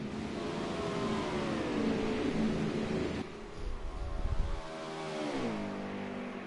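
A race car engine revs hard in an oval racing game during league qualifying, a continuous loud drone with rising and falling pitch as the car drifts and holds high RPMs, briefly dipping before climbing again.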